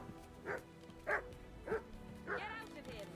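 A dog in Kingdom Come: Deliverance 2 gives four short, yipping barks at a steady pace, fairly faint against quiet game ambience.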